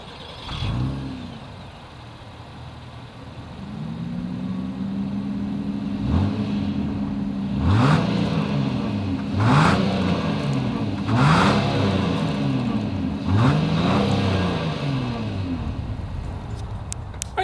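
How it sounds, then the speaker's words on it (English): A 2022 Acura MDX with dual exhaust starts up and then revs repeatedly, five or six sharp rising blips over a steady idle, loud and close, with no talking. "As always, here is that exhaust clip."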